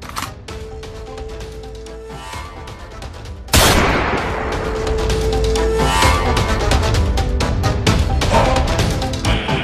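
A single loud gunshot fired at a tree in a staged rural drama cracks out sharply partway through, its echo trailing under a steady background bed.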